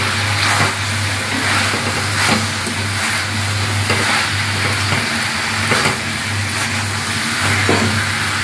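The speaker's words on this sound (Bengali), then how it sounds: "এবারে ভাজা বেবিকর্ন গুলোকে দিয়ে দেব।" Fried baby corn goes into a pan with salt, turmeric and Kashmiri chilli powder for chilli baby corn. A steady close sizzle runs with stirring scrapes over a constant low hum.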